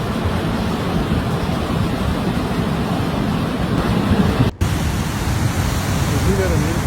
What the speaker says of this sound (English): Videos coming from social media showed torrential flooding, capable of carrying cars and trees with it in a maelstrom of water and mud